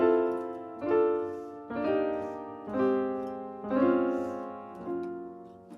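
Piano-like sustained chords, all major sevenths, move down by fifths in a slow progression of about six chords, each struck cleanly and left to ring and fade, played alone with no talking.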